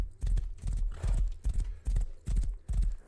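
Hooves of a horse clip-clop in a steady, loud rhythm of paired strikes close by, running without any speech over it.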